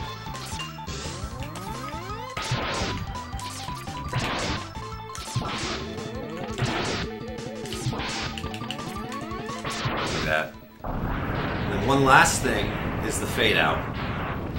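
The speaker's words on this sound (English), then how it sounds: "After the explosion," Mega Man X gameplay sounds with a boss defeat explosion, a rapid series of loud crashing bursts and metallic blasts over game music, while someone talks over the action.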